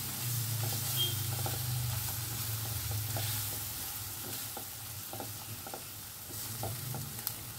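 Spice paste sizzles in a kadai after water is added while cooking an aloo karaishuti sabji, a continuous hiss with regular stirring scrapes and knocks, fairly close, with no talking.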